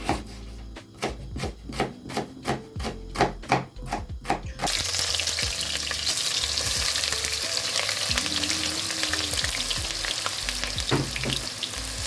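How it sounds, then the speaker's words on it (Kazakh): Onions sizzle in hot oil in a pot for Kazakh plov, first with rhythmic clacks of chopping or stirring, then a loud continuous frying hiss with occasional scraping of a utensil. "Пиязымыз кішкене қызылдау қуырылды."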